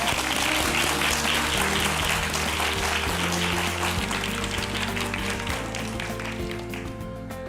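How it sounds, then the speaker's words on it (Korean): A lecture audience fills the hall with dense, sustained applause after a talk on design, steady for several seconds before gradually easing off. "우리 소장님께 큰 박수로 부탁드립니다"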